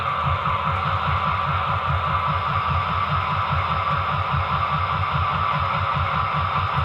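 A pair of powered BLI F-7 model diesel locomotive units idles on an NCE PowerCab, giving a steady throbbing engine rumble with a fast, even pulse under a constant hum. Nothing else is heard.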